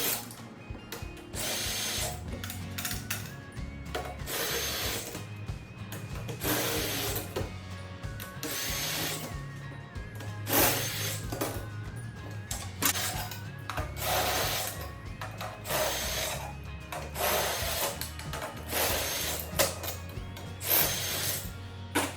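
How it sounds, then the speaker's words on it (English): A cordless drill unscrews hardware from a wrapped drum, its motor whirring in repeated close bursts with ratcheting and clattering between runs; no speech. "I'm gonna get my cordless drill, take my Phillips tip bit out and take a bit that fits these drum heads"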